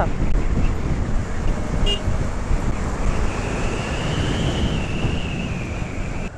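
Strong storm wind roars during a night motorcycle ride on a highway in Nepal, a dense, continuous buffeting rush across the whole stretch, with road and engine noise blended in and no clear speech.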